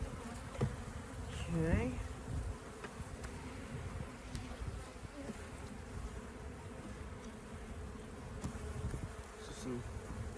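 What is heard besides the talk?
honey bees buzzing during a beehive check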